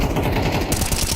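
Rapid automatic gunfire in Counter-Strike, sprayed through a wall on the Ancient map at a BLAST Austin Major match, a fast loud rattling burst of close shots.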